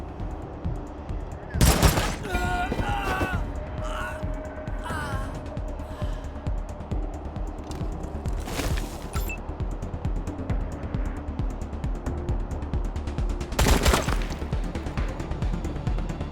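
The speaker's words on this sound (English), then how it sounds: "Nice shooting." Gunfire in the role-playing game Wasteland 3, a few loud sharp bursts of shots spread across a steady background of game ambience and faint voices.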